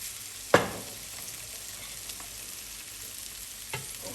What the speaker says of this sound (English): Now I'm going to start scooping my rice into the frying pan.